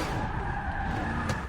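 In the Forza 6 racing game, a NASCAR stock car at the Brickyard skids and spins out after hitting the wall, a sustained tire squeal over engine roar, loud and brief.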